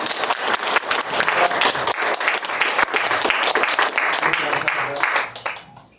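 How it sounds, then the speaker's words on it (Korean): Audience applause at an academic symposium in a lecture hall, dense sustained clapping from a large crowd that holds steady for about five seconds, then tapers off at the end. "박수 한번 부탁드립니다"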